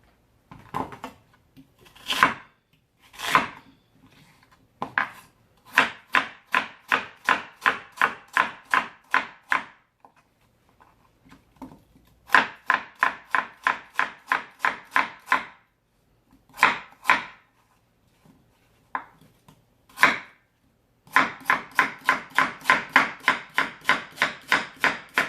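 A knife slices radish on a cutting board, making crisp, rapid, evenly spaced chops in several runs with short pauses between, close and clear, with no talking.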